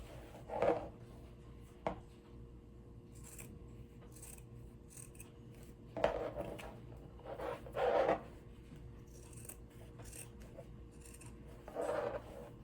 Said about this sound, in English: I'm going to take my pair of scissors and I'm going to cut it out.